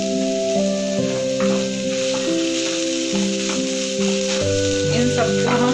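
Shredded cabbage and vegetables sizzle in a pan for paneer spring rolls, a steady frying hiss running under a musical backing of sustained tones, with occasional stirring clicks.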